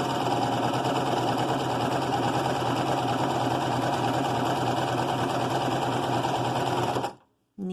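A sewing machine top stitches a fabric face mask with ear loops in one long, fast, even run of close, loud mechanical chatter, then stops suddenly and restarts briefly.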